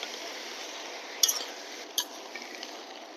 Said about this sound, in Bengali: আমি আরো 1 মিনিট এভাবে ভেজে নিব।